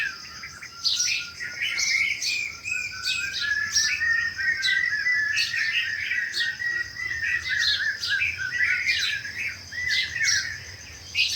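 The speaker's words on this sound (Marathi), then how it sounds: "पक्ष्यांचा चिवचाट किती आहे बाबा" Birds chirping busily and continuously, overlapping tweets and squawks with a faint insect drone beneath, fairly loud and close.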